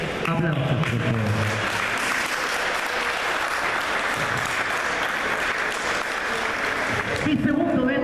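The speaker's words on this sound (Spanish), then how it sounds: "Aplausos, por favor." Crowd at a lucha libre wrestling event applauding and cheering loudly, a dense sustained roar of clapping with voices mixed in, and an announcer's voice briefly audible at the start and end.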